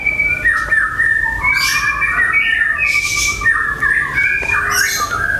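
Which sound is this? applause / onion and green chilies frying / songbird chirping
songbird chirping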